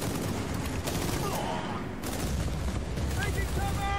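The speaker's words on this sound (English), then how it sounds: "Machine gun!" Sustained gunfire in the video game Battlefield: Bad Company 2, a dense continuous rattle of machine gun bursts with game noise, loud throughout, with voices talking over it.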